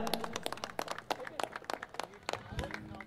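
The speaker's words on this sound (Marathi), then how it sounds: "एकदा जोरदार टाळ्या" Loud crowd applause breaks out to honour a guest at a local cricket tournament, with a dense patter of claps and some voices mixed in nearby.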